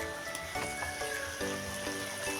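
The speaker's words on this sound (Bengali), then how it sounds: "এখানে হেঁচড় ভাজা হয়ে যাচ্ছে।" Boiled jackfruit pieces coated in cornflour fry in a pan of oil, giving a steady, close sizzle with scattered crackles and pops throughout.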